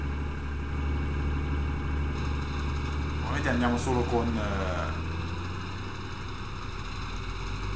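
A tractor engine in the Farming Simulator 2013 video game hums steadily at idle, a low, constant drone throughout, while someone talks briefly over it.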